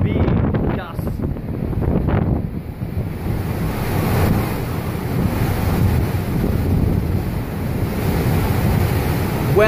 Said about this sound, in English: We're having some significant severe gusts.